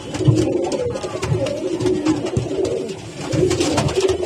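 Pigeons cooing in a newly opened loft, several birds making soft, repeated rolling coos that overlap continuously at close range with no speech.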